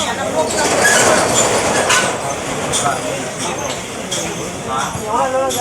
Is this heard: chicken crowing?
no